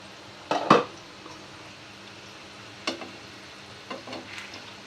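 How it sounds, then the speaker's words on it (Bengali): Potatoes frying in a pan give a soft steady sizzle with a few brief stirring scrapes and clatters, close and fairly quiet, with no talk. "আলুটা ভাজা হয়ে গেছে।"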